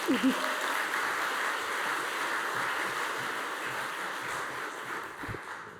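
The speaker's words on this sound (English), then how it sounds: "Let's give them a round of applause." Sustained applause from a crowd at an awards ceremony, a steady wash of clapping that holds evenly for several seconds with a brief voice near the start.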